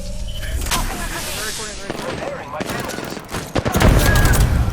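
Rapid bursts of automatic gunfire ring out in the battle royale shooter Apex Legends, loud and dense, with sharp shots clustering near the end over in-game sound effects.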